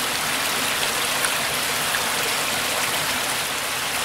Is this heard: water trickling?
yes